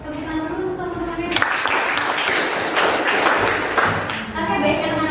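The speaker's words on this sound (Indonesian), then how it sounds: "Tepuk tangan dulu untuk teman-teman." Classmates clap for their peers in a university teacher-training accounting class, a dense burst of applause starting after a second and continuing steadily, with speech around it.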